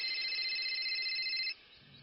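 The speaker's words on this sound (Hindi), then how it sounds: "तभी उसके मोबाइल पर शनाया का कॉल आया" Mobile phone ringtone signalling an incoming call in an audio drama, a bright steady electronic tone that rings clearly for about a second and a half and then cuts off abruptly into quiet.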